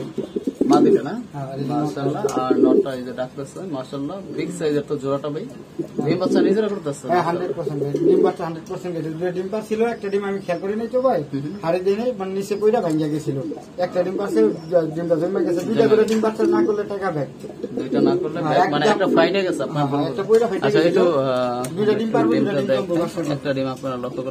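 A pair of fancy pigeons sitting on eggs on a farm, soft repeated cooing close by, continuing under someone talking throughout.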